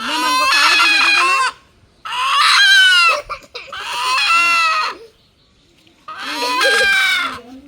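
A chicken calls loudly up close, four long, drawn-out squawks separated by short pauses.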